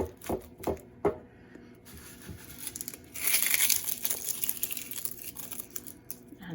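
Linen fabric folded over dry onion skins, with soft crinkling and rustling handling sounds, a few sharper crackles early on and a louder sustained rustle midway, close and fairly quiet.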